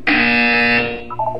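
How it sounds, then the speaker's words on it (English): A loud, steady electronic buzzer from the video game Portal 2 drones for under a second, then fades into a brief, softer trailing tone. "You will hear a buzzer."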